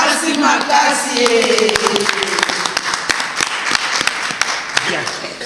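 A crowd at a gathering of military widows and orphans applauds and cheers, with dense rhythmic clapping under loud mixed voices and shouts, close and sustained throughout.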